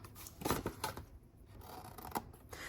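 Scissors snip the corners off a paper fruit salad apple pie treat box, a few quick close cuts with soft paper rustle between them and no talk.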